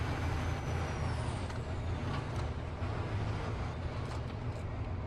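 A semi-truck in Farming Simulator 15, on the Massie, Ontario map, rumbles at a low, steady idle while parking, with a soft air-brake hiss rising early and continuous engine drone throughout.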